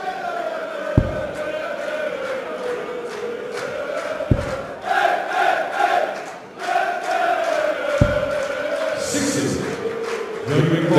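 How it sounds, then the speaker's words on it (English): A darts crowd at the 2014 German Darts Masters chants and cheers loudly and steadily through a first-round match, with a few sharp bangs cutting through and voices swelling and dipping together. "The crowd finding their voices for this last match of the afternoon session."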